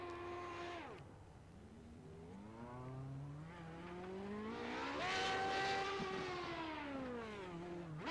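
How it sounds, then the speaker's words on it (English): Race car spinning donuts at Zolder circuit, engine revving in long rising and falling sweeps with tire squeal, loud and continuous over about eight seconds with no talk. "Still doing the donuts"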